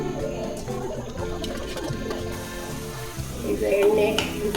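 Homemade hair oil ingredients sizzling and frying in oil in a pan, a steady continuous crackle with occasional stirring, close and fairly loud.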